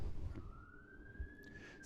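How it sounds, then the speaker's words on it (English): A distant fire engine siren wails with a slowly rising tone over low rumbling street noise, a block from a firehouse. "I live a block from a firehouse, so sirens."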